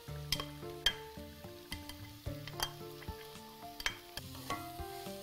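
Mushrooms frying in a pot for mushroom soup, a continuous sizzle broken by repeated clinks and scrapes of a utensil stirring against the pot, close and without talk.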